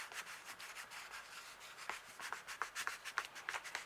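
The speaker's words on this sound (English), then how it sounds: "just use that to rub over. Make sure you rub evenly" A block rubbed evenly back and forth over paper gives a soft, steady scraping hiss with faint rhythmic strokes, close by and quiet, with no talking.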